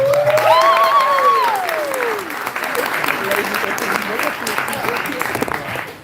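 Applause breaks out as a woman is invited to the front at a youth plenary gathering, with sustained clapping under a short whooping or whistling voice at the start.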